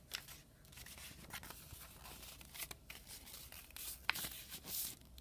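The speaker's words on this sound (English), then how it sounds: "You tear off the stuff that you don't need that has writing on it already" Paper torn off a binder divider, a run of rough ripping and crinkling strokes close by at low level, with no talking.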